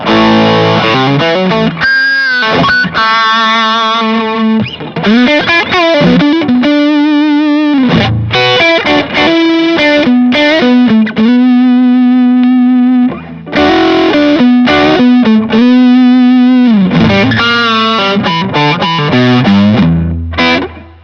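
Electric guitar through a Harley Benton Vintage Overdrive pedal, mildly driven, playing alternating chord stabs and sustained single notes with a chorus-tinged tone, loud and close, no voices.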